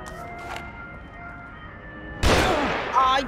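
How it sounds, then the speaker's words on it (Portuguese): A quiet stretch with faint tones, then a sudden loud burst of gunfire in The Evil Within on PC, followed by another shot a moment later. "Estão atirando em mim?"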